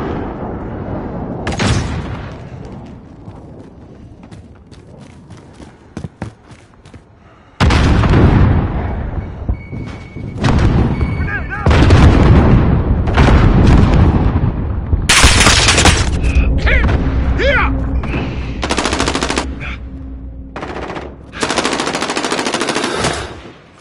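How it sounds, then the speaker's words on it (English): Modern Warfare battle audio: rapid machine-gun bursts and gunfire, then heavy airstrike explosions and booms that swell loud and sustained, with game voice callouts mixed in. "Airstrike incoming, beware."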